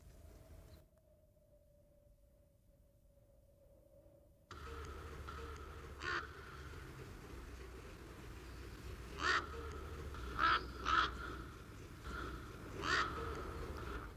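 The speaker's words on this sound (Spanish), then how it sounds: "Los graznidos de un cuervo nos revelan la presencia de un bebedero" A crow caws in the open, dry landscape of Jandía Natural Park on Fuerteventura: five or six harsh, separate calls over a steady outdoor hiss, after a quieter opening stretch with a faint tone.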